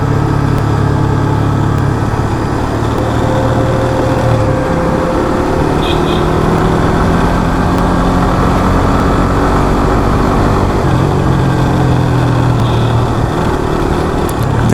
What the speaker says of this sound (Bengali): ওই যে মোটরসাইকেল যাচ্ছে দেখেন